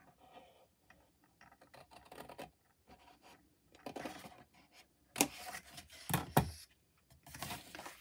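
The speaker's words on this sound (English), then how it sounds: "you're going to cut from the top to that point." Scissors cutting through card stock while making a folded tulip bouquet card, with quiet rustling and handling of paper followed by several louder, close crisp snips and scraping cuts toward the end; no talking.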